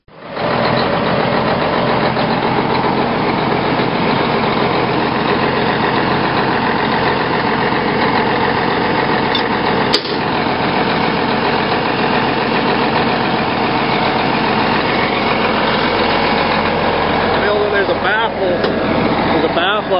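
A huge ranch tractor in north central Montana rumbles at a steady, loud idle right up close, its heavy engine drone continuous, with a brief knock partway through and voices talking over it.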